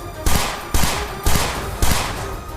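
Bursts of gunfire from Hezbollah fighters at a deserted spot in a news report, four sharp loud volleys spaced about half a second apart, each trailing off in a noisy echo.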